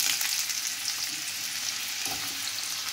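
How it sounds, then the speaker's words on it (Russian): Continuous bright, crackling sizzle of white eggplant frying in oil and butter, steady and fairly loud throughout with no voices. "Баклажанчики уже обжарились."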